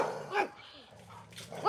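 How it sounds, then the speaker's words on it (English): Several dogs bark excitedly at another dog passing outside, a few sharp close barks and yips at the start and end, with someone talking in between. "This one has a dog. So they're going crazy because there's another dog."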